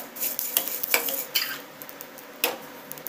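Whole spices for garam masala, including coriander seeds and fennel, scraped and stirred in a pan with the heat switched off, giving irregular close scratchy rattles and clinks with a soft sizzle underneath and no talking.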